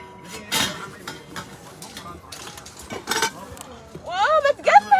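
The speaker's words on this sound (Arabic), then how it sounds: "طنجرتين وصينية" Metal pots and a tray from an aid parcel are lifted and set down, giving several sharp clanks and clinks at close range, with a brief voice near the end.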